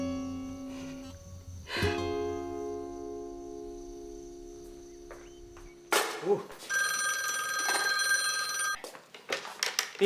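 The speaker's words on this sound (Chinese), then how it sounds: "OK 爸，电话啊。" A home telephone rings out in a drama scene, its bright repeating electronic ring loud and clear over faint background tones.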